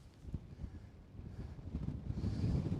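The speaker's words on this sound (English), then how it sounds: "the wind hasn't dropped here. It's still blowing." Wind blowing outdoors on an open, greying day, a low gusty rumble buffeting the microphone and slowly building in strength, with no voices.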